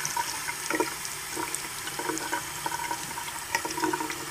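Tap water running steadily as a stained, thin-material Yoda toy figure is rinsed in a sink, a continuous moderate splashing stream with small irregular spatters and no talking.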